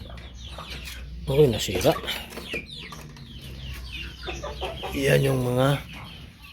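Chickens cluck near a farm coop after one hen got out through a broken spot, the clucking mixed with someone talking over it in bursts.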